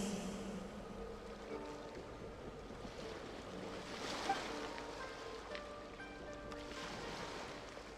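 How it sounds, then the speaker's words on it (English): Ocean waves wash steadily against a shore in a video game, a continuous broadband surf with soft wind, moderately loud and unbroken, with no voices over it. "Go to where you can hear the sound of the waves."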